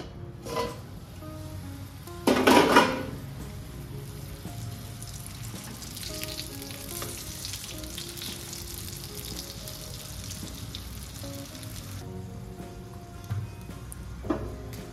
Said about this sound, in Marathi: ज्यावेळेस मिरची छान अशी फ्राय होत येईल